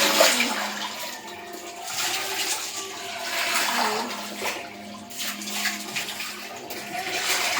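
Water poured over hair during a hair wash, a steady, close rushing and splashing stream that runs for several seconds with slight swells in volume.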